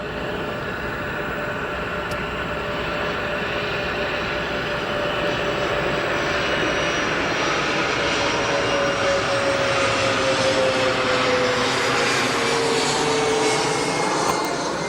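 Air Wisconsin Flight 6134 from Harrisburg, Pennsylvania, arrives at O'Hare Airport with a steady, loud jet engine roar that holds for the whole stretch, a faint whine sliding downward as the plane comes in.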